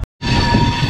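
A passenger train pulls into Gaya Junction station with a loud, steady rumble of wheels and carriages, beginning abruptly after a brief moment of silence and continuing close by.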